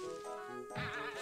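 A short sheep bleat from the Sleepy Sheep item in the Paper Mario video game, a faint wavering cry that rises after a brief buzzing tone.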